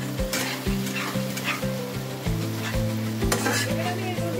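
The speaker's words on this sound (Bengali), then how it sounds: "টমেটো আর রসুনের পেস্টটা দিয়ে ভালো করে কষিয়ে নেব।" Tomato and garlic paste frying for a home-style mutton curry, with a steady close sizzle and repeated scraping stirs of a spoon against the pan throughout.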